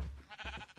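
A sheep in the Minecraft video game bleats in a few quick, wavering pulses, faint and close, with no talk over it.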